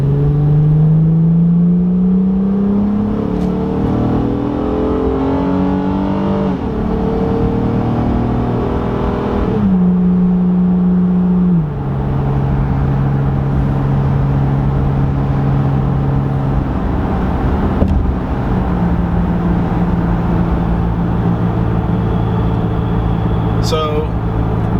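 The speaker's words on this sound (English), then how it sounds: "now I can definitely hear the muffler upon acceleration more than I can hear the motor" A 2018 Honda Ridgeline pickup with an aftermarket Magnaflow exhaust drones and rises in pitch through several gear shifts under hard acceleration, a steady loud cabin rumble that keeps going throughout.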